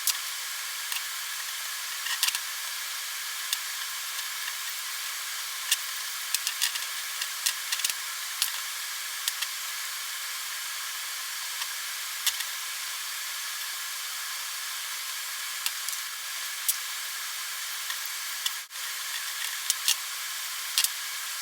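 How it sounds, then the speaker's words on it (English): Brake cleaner sprays into the cylinders of a Nissan Z32 brake caliper during a rebuild, a steady faint aerosol hiss with small clicks and taps throughout. "Spray some brake cleaner in there, clean out the cylinders"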